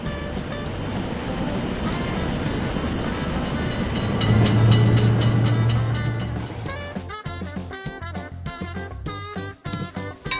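A video-game train rolls through a level crossing: a broad rumble swells to a loud peak with a steady low droning tone midway, then gives way to a sharp, rhythmic clatter of wheels. No voices.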